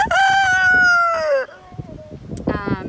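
A rooster crows loudly and close by in one long, drawn-out call, then chickens cluck and murmur in the background, with Rhode Island Reds and Easter Eggers among the flock.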